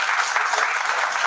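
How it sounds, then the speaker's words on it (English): An audience at a panel discussion on new criminal laws breaks into steady, dense applause, with many hands clapping together at an even volume throughout. "So a big round of applause for the government of India on that."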